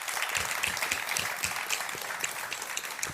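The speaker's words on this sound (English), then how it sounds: "Can I have a big round of applause for Kenita, Kat, and Miguel, our wonderful panel" Fairly quiet audience applause for a panel at a human rights conference, a steady patter of many hands clapping in a large room.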